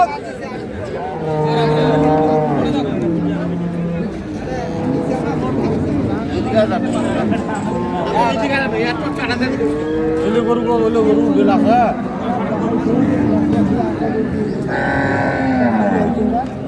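Dairy cows at an Ambari cattle market low repeatedly in long, harmonic moos, several animals close by, over a steady background of crowd chatter and people talking.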